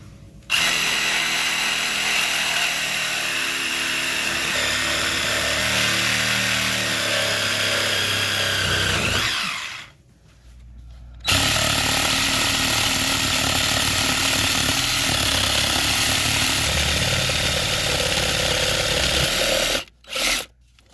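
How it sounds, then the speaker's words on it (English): A Sawzall reciprocating saw cuts through a root-blocked drain pipe in two loud, close runs of steady buzzing, the first about nine seconds long and shifting in pitch, then a short pause before a second long cut and a brief final burst. "take a Sawzall, cut the pipe"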